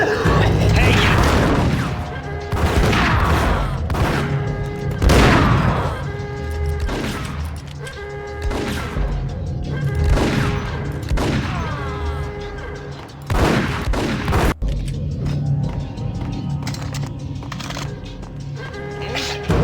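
Repeated loud gunshots from Max Payne, spaced bursts and single booming shots with ringing tails across the whole stretch, close and heavy, with a brief quieter gap near the end.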